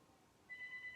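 A home landline telephone begins ringing faintly in a room partway through, a thin steady electronic tone over low background noise.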